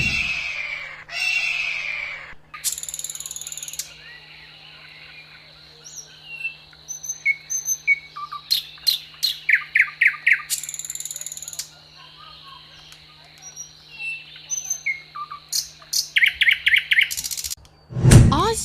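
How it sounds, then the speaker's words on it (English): Bird calls ring out repeatedly in bursts of sharp, high chirps and tweets over a steady insect drone, loud and close, with a few longer piercing cries. "Eagle."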